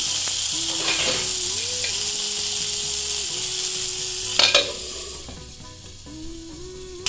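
Eggplant pieces fry in a pan, a steady close sizzle running throughout with small stirring bumps and a low hum underneath.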